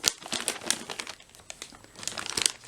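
A thin resealable South African ration bag crinkles and rustles in quick, close bursts as it is opened.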